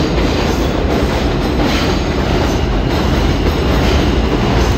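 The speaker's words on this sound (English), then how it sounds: "Check out the train." A train passes close by in Brooklyn, New York, a loud, steady roar of wheels and rail rumble filling the whole stretch without pause.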